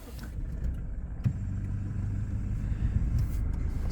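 A 2021 Toyota Hilux Rogue engine cranks and catches with a sharp start about a second in, then settles into a steady, close idle rumble with no talking.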